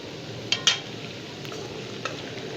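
Chicken karahi with golden-browned chicken pieces and softened potatoes is stirred in a frying pan: a few sharp utensil scrapes and clacks over a low, steady sizzle.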